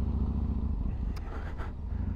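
A motorcycle engine with exhaust baffles fitted idles steadily and close by, a low continuous rumble running throughout, with a couple of brief higher bursts partway through.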